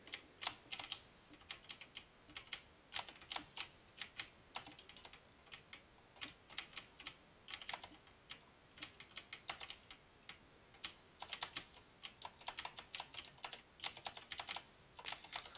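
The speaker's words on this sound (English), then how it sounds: "I apologize if you hear my keyboard in the background." Rapid, uneven clicking of a computer keyboard during a session of the rhythm game Osu!, with dense bursts of keystrokes and short pauses, close and fairly quiet, without speech.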